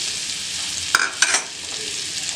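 Flour being stirred into melted butter in a frying pan, a steady loud sizzle with a couple of quick scraping strokes of the spoon near the middle.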